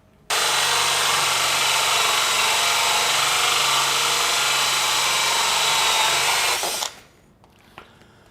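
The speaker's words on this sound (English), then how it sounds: "I'm going to drill a hole in this little board." A power drill bores a hole through a small board, running loud and steady for about six seconds before winding down, followed by faint handling noises.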